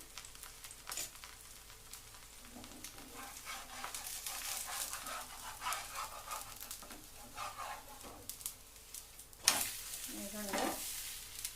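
A dosa of ground wheat rava and urad dal fries in oil on a pan with a quiet, crackling sizzle and occasional scrapes, while a dog whimpers faintly nearby and a few muffled voices come through.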